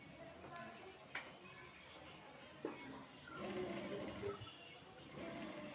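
A sewing machine stitches down the middle of folded net fabric with soft, quiet ticking and light mechanical clicks, faint and intermittent over a low room hiss.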